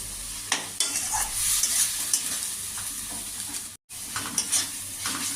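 Spice paste and potatoes sizzle and fry in a pan as they are stirred, a continuous close hiss broken by scraping stirs and light clinks of the utensil against the pot.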